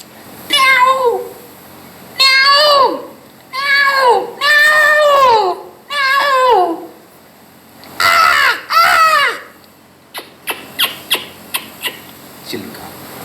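At a retirement celebration mimicry show, a performer voices a peacock's call in a series of loud, wailing, meow-like cries, then ends with a quick string of short, sharp notes.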